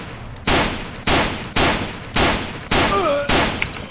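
Pistol gunshots in the video game Way of Hero: six sharp, loud shots fired at a steady pace roughly half a second apart, each with a short decaying tail, and a brief whistling tone near the end.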